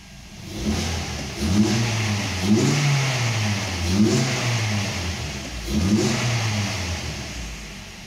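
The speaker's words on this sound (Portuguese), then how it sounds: "Agora vamos ligar lá para ver o motor como que fica." A Ford Focus 2.0 Duratec engine fitted with a sport air filter revs up and settles back repeatedly, rising and falling in pitch over a steady rumble, close by, with no talking.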